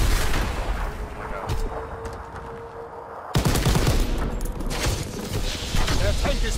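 Machine gun fire in a WW2 combat video game, dense rattling bursts and battle noise that dip briefly then return loud, with a voice talking over it.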